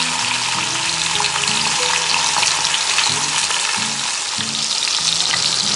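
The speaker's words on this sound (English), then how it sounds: "We want to try to sear the fat in the outside of this guy." Corned beef searing fat-side down in a Dutch oven over a hot fire, a loud continuous sizzle and crackle close up, with no talk.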